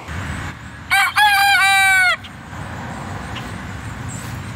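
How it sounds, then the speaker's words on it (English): A young rooster gives one loud, close cock-a-doodle-doo crow lasting about a second, set against quiet outdoor background noise. "he is crowing constantly these days"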